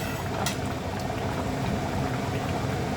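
Egg and potato curry gravy simmering in a pot: a continuous bubbling and boiling wash at an even level, close and unbroken.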